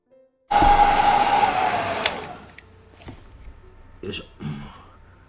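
A hair dryer blows on a watercolor painting, a loud steady rushing whoosh for about two seconds that gradually fades, followed by a few faint thuds and rustles.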